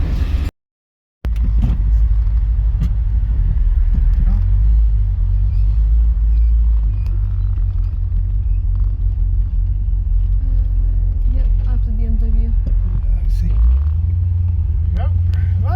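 A 1976 Chrysler New Yorker Brougham drives along a narrow road, its engine giving a deep, steady rumble heard from inside the car, with a person talking over it.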